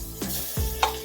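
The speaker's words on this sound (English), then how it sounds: "Next, add in the garlic and ginger" Garlic and ginger dropped into hot oil in a saucepan, giving a close, steady sizzle with a couple of brief bursts as pieces hit the pan.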